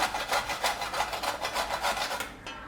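Coconut is grated by hand in close, rhythmic strokes, with an even rasping scrape repeating about twice a second before it trails off at the end.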